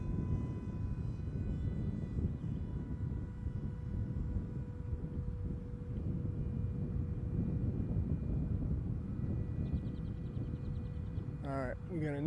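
Axon Phoenix model airplane flying in wind, its engine a steady distant drone under rushing wind noise on the microphone, with a few faint chirping tones near the end.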